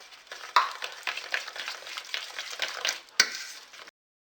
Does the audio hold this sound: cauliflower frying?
yes